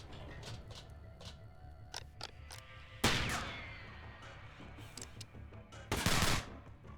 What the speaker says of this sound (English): Weird ricochets here.